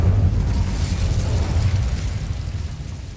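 The Incendio fire spell is cast in Hogwarts Legacy, a dense, steady roaring whoosh of flame with a deep rumble. It is loud and close, holds through the whole stretch and fades only slightly at the end.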